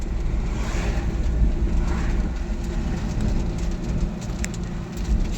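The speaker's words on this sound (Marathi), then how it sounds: "पाऊस पडायला सुरू झालेला आहे." Sudden unseasonal March rain falls in Ashti, Beed, Maharashtra, a steady broadband hiss of drops that continues evenly throughout with no voices.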